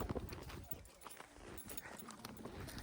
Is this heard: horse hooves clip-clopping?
yes